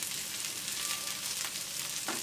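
Cabbage added to already sautéed onion in a pan, giving a steady close sizzle and fry with faint stirring scrapes, no talk.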